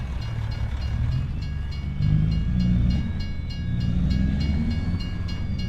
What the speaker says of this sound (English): There's a second train.